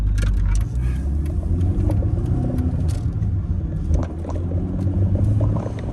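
A Mercedes-Benz C Class Coupe with 114 horsepower accelerates on a road, its engine a steady low drone with faint rising tones and road noise from inside the cabin, no talk.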